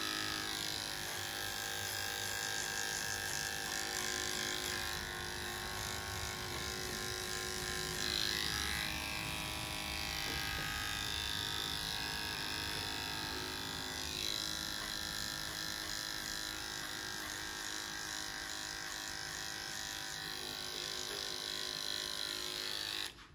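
Electric hair clippers with a longer guard buzz steadily while giving a short buzz cut at home, a continuous close, even drone that shifts slightly in pitch as the blade moves through hair.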